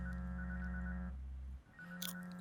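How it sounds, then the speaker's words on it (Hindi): A cartoon telephone rings nearby with a steady electronic tone, breaks off briefly, then rings again before a short clatter at the end. "फोन उठाओ गमी।"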